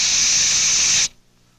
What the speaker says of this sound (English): Do your stuff, spray can.